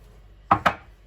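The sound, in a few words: chopping dill with a knife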